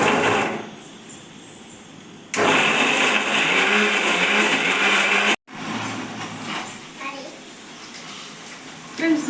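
A kitchen mixer grinder whirs loudly as it grinds a cooked coconut paste in its jar, a steady close roar lasting about three seconds after a quieter stretch, then stopping and giving way to softer kitchen sounds.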